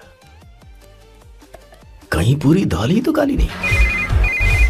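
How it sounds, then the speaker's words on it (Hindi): A phone ringtone announcing an incoming call from a sister in a Hindi film scene plays a plucked melodic tune for about two seconds, then a loud voice speaks over music while a short beeping tone repeats. "इस वक्त दीदी का फोन।"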